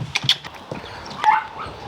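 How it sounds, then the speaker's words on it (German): A rescue dog from an animal-welfare shelter in Stralsund gives a few short, close, sharp vocal bursts, woofs and soft whimpery sounds, scattered across a couple of seconds. "Baku ist der Hund von einem Teammitglied von uns"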